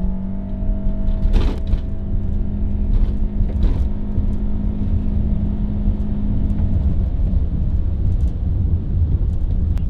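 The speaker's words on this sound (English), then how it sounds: "So we'll give you a quick 0 to 60 blast here." A 2017 Honda Accord Touring Hybrid accelerates from 0 to 60, a loud, smooth, steady rumble of engine and road noise building with a few brief knocks along the way.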